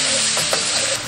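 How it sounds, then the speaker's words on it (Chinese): Ginger, garlic and pickled chilies stir-frying in hot oil in a wok, giving a steady, close sizzle with a few soft stirring scrapes throughout. "下入姜蒜、泡椒炒香。"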